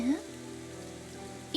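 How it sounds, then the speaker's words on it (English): Steady rain falls in the video game Psychedelica of the Black Butterfly, a soft, continuous wash under sustained tonal music, lasting under two seconds. "The sound of the rain seems as though it would continue for all eternity."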